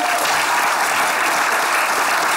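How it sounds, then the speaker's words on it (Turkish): A studio audience at a Turkish comedy show applauds steadily and loudly, dense clapping with no breaks and no voices. "İşte alkış resmen"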